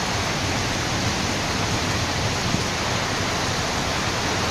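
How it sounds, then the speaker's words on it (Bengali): Strong storm wind from the east roars steadily and loudly over a village, a dense, unbroken rushing noise with no voices. "পূর্ব দিক থেকে বাতাস আসছে"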